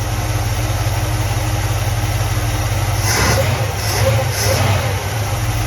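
A 1966 Chevelle Malibu engine with a rebuilt two-barrel Rochester carburetor idles steadily and loudly up close, choke still on, with a brief rise in revs partway through and no talk.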